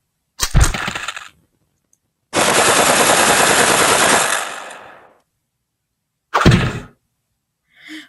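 Rifle gunfire in a first-person shooter video game: a short loud burst, then a long sustained stream of rapid shots, and a final brief burst, heard up close without talk.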